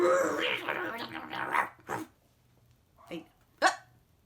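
A dog barks at home during an online youth theatre class, a few short sharp barks spaced out after a stretch of talking, moderately close.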